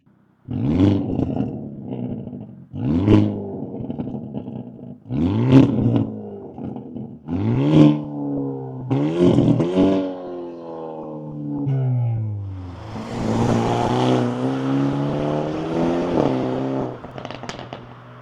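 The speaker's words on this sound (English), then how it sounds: "no other cars pop and bang like BMWs. This thing does the exact same thing." Hyundai Elantra N on a race track, the exhaust note rising and falling through a run of revving bursts, with pops and bangs crackling in between and a sustained high-rpm roar near the end, loud and close with no talk.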